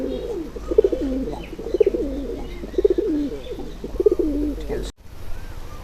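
Kaldom Madras pigeons cooing nearby in repeated rolling phrases, about four bouts with short pauses between them, over a low hum before a sudden cut near the end.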